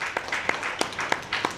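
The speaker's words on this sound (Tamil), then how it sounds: "உற்சாகமான கரகோஷம்" Brief applause at a school debate competition, a small group clapping in a short, fairly faint burst with a few sharp individual claps standing out.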